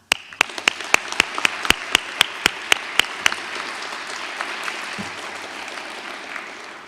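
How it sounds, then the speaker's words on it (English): At a high school Air Force JROTC change of command ceremony, about fifteen sharp, evenly spaced hand claps ring out close by for roughly three seconds, then fade into a low, diffuse crowd rustle. "let's have a round of applause for all of the cadets which were promoted earlier today"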